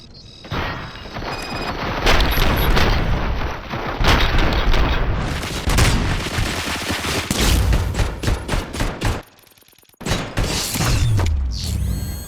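Sustained heavy gunfire in Robocop Rogue City: dense automatic bursts and booming shots with mechanical clatter, loud and close, cut by a brief silence near the end before the firing resumes.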